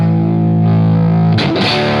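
A distorted electric guitar at moderate rhythm volume, with a sustained overdriven chord ringing loud and steady before a quick change to a new chord with a brief scratchy attack.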